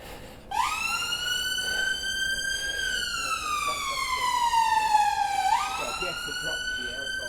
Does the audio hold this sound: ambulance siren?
yes